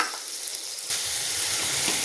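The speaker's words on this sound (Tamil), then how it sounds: "அங்கே வெங்காயம் நல்லா வதங்கிருச்சு." Onions frying in an oil pan, a steady close sizzle that gets louder and brighter partway through, with no voices.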